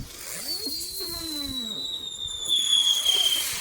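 Backyard fireworks go off close by: several whistling rockets rise with sliding tones, then crackling bursts and a long high whistle, fairly loud throughout with faint voices in the background.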